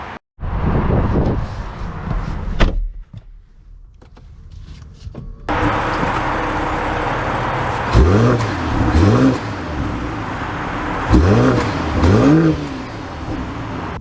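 A 2024 BMW X5 M-Sport pulls away after a door closes, its engine rising in pitch through two clear revving surges over steady road and cabin noise.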